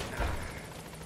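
A helicopter in Metal Gear Solid V throbs with a brief, loud rotor thrum, heavy low beating over a broad rushing wash of noise.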